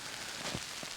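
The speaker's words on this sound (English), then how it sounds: "I don't know if you can hear that. Still raining. It's not heavy now, it's quite light." Light rain falling on a tent while wild camping in bad weather, a soft, faint patter of drops on the fabric with a couple of slightly louder taps.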